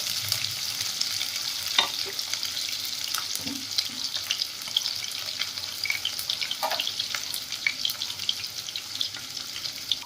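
Chopped onion frying in a pan while chicken liver curry is made, a continuous crackling sizzle punctuated by repeated spatula scrapes and stirring clatter, fairly close and even in level.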